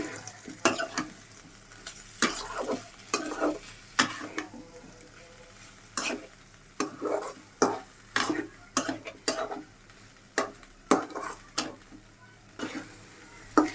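Chicken sautéing in a pan with a soft sizzle beneath repeated scraping strokes of a spatula, a regular stirring rhythm close by.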